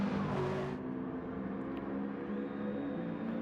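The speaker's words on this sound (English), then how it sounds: "Listen to the V8 engine working overtime in that SLS." In a racing video game, a Mercedes SLS V8 engine drones steadily at high revs, loud and continuous, with a brief whooshing swell at the start.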